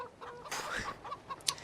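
Chickens on a farm in the video game Farming Simulator 15 cluck in a few short, close bursts, with one brief sharper squawk near the end and no talk.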